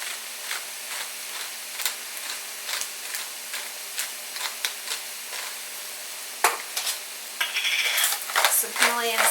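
A whisk beating eggs with pepper for a crustless quiche, quick rhythmic clicking against a bowl in short bursts, close and clear, ending with louder clatter and some brief speech.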